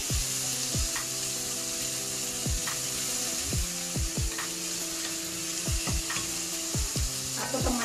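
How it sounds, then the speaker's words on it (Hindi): Tomatoes frying in a pan for lauki chana dal sabji, a steady sizzle with repeated scraping strokes of a spoon stirring at a regular rhythm, close and alone. "टमाटर डाल देंगे इसमें, इसको अच्छे से फ्राई करेंगे।"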